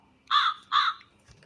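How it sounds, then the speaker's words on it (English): A crow caws twice from an animal sound book, two loud, harsh calls of equal length a short beat apart, with nothing else around them. "The crow flaps its wings."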